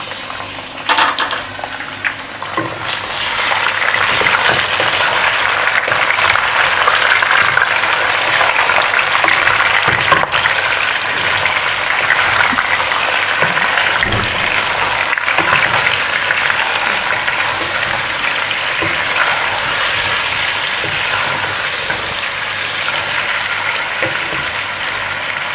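Chicken pieces frying in hot oil with browned onions in a pan for a homemade chicken biryani, giving a steady, close, loud sizzle and crackle that holds on without a break.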